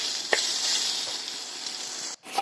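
Soybean chunks fry in a pan with a loud, continuous sizzle, a couple of soft stirring knocks, and a brief gap near the end.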